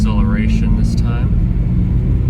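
A 1979 Datsun 280ZX engine revs up under acceleration, a loud, close mechanical roar with a rising whine that climbs and then settles into a steady drone, with a voice briefly heard over it.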